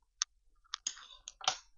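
Crisp, puffed pizza crust crunches close up in a few sharp, irregular bites and cracks against near silence, with no talking.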